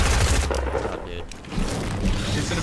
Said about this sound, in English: Yeah, he's got a shotgun.